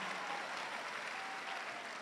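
An audience clapping at a university Founders Day gathering, a dense, even roar of many hands from a large crowd that holds steady throughout without voices.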